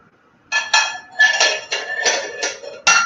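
A lemon rubbed around the rim of a drinking glass while sugar-rimming it, giving about six close, shrill squeaking strokes in short uneven bursts, with no talking.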